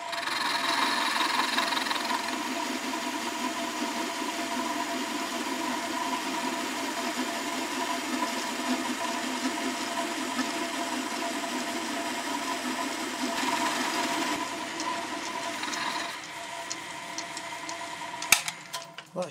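Metal-cutting machine taking a light finishing cut on a steam locomotive horn guide, a steady droning hum with a tonal whine held for most of the clip before it fades and ends in a few sharp knocks.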